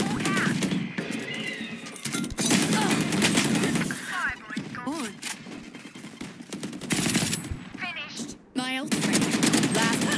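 Close, sharp bursts of automatic gunfire in a tactical shooter video game, in uneven volleys with brief gaps, over background game sounds, plus chirping effects and a talking voice.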